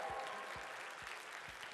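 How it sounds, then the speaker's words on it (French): A TV studio audience applauds steadily as guest David Taïro is welcomed on the show TEMPO, with a dense, even wash of clapping and faint low thumps pulsing underneath. "On va applaudir très fort David Taïro."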